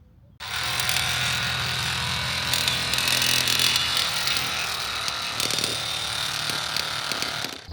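A second-hand SDS drill hammers a batter peg into the ground, a loud, fast, continuous rattling pound that starts abruptly and runs for several seconds, close to the microphone.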